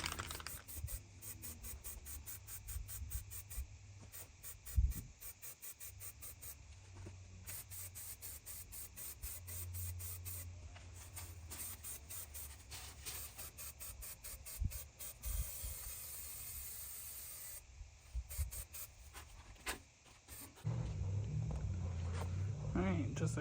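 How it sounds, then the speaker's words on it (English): Aerosol spray paint coats front suspension parts in repeated short hissing bursts, close and fairly quiet, separated by brief pauses, with faint handling noises and a low rumble near the end. "just a quick little spray on them"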